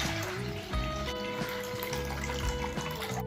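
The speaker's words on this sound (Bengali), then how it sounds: "আমরা দুধটা ঢেলে নিচ্ছি।" Milk poured into a pot for payesh made with nolen gur, a steady close trickle and splash of liquid running continuously with no talk.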